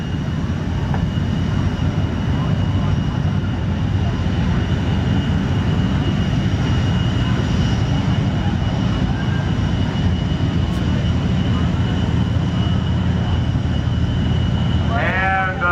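F/A-18 Hornet and F-14 Tomcat jets at the NAS Oceana air show give a steady, loud broadband roar of jet engines that fills the whole stretch without pause.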